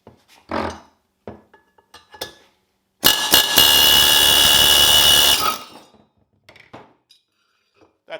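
A pneumatic air chisel hammers on an 11-plus-year-old Briggs and Stratton Quantum small engine during teardown, one loud sustained burst of rapid rattling lasting a few seconds, framed by brief knocks and clanks before and after.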